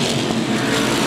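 SK Modified race cars roar past the grandstand at Waterford Speedbowl, a loud, dense, continuous engine drone filling the whole moment without any break or talking.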